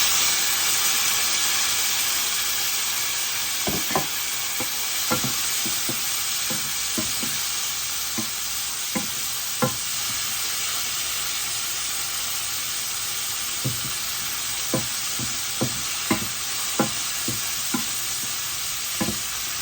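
Onions stir-fried in a pan with garlic and boiled snake gourd: a constant loud sizzle runs throughout while sharp spatula clicks and scrapes strike the pan in irregular bursts, with no talking.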